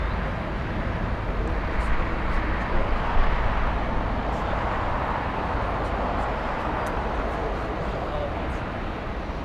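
An Alaska Airlines Boeing 737-800 jet at LAX produces a steady, broadband roar that holds for the whole stretch, with a slight swell near the middle, layered under airport ambience.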